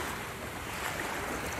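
Sea waves wash steadily at a Jamaican shoreline as people wade into the water for a baptism, a constant surf roar with wind buffeting the microphone and no voices.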